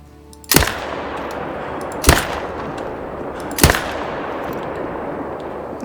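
Three single hunting rifle shots in Call of the Wild, each a sharp loud crack with a short tail, spaced about one and a half seconds apart over a steady outdoor background.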